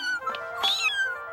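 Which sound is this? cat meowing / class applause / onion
cat meowing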